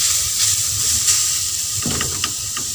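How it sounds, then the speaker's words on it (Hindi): Milk hits carrots fried in ghee and sets off a broad, steady hiss of sizzling and steam. Faint clicks and scrapes of the pan come through under it, close and with no talking. "अब हम इसमें दूध डालेंगे।"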